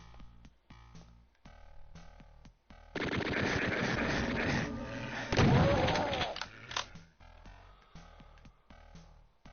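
A chaingunner enemy firing in Doom II, a loud run of rapid machine-gun shots lasting a few seconds amid game music, followed by a heavy burst and quieter game sounds.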